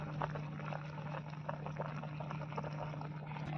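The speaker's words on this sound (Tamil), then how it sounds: "நல்லா கொதிச்சு வெந்துருச்சு தலை வந்து கொஞ்சம் கலர் மாறி இருக்குது" Drumstick leaf soup boiling in a pot, a continuous low bubbling simmer with soft liquid churning, steady and close throughout.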